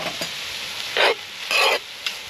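Food browning in a pan after the grease is drained gives a steady sizzle, broken by a few louder bursts of stirring and scraping close by.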